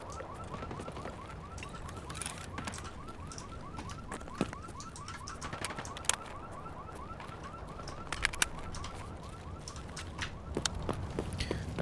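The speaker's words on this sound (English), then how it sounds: "I do love the Left 4 Dead vibes of like just like the alarms going off." Alarms wail on and on in the Escape from Tarkov video game, a fast repeating electronic tone held steady through the scene while sharp clicks and footsteps come and go, with no talking.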